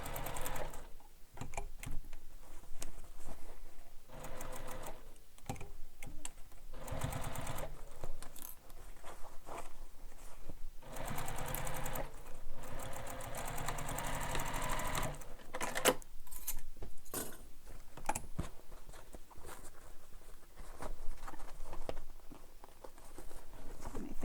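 A sewing machine stitches a handheld bag panel, with rapid mechanical whirring in repeated bursts separated by short pauses, close and fairly quiet.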